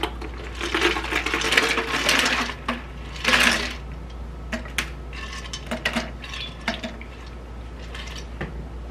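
Ice cubes clink and rattle into a glass of kiwi and lime agua fresca, a burst of sharp clattering knocks followed by scattered lighter taps and small settling clicks, close and fairly quiet with no talking.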